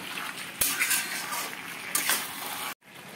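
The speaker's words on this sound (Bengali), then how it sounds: "এবারে মিডিয়াম ফ্লেমে রেখে টমেটোটাকে মাংসের সঙ্গে একটু কষিয়ে নেব।" Chopped tomato stir-fried with mutton pieces over medium flame for a thin Bengali mutton curry, a low sizzle broken by two sharp spoon scrapes against the pan before a sudden brief cut to silence.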